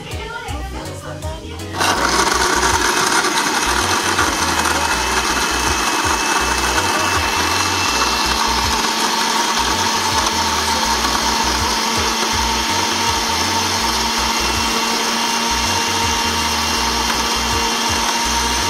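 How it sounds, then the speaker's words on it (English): Blender pulverising chopped coconut with water for coconut milk, a loud steady whirring drone starting after a short pause and running continuously to the end. "We have to cut it up small for the mash up your blender"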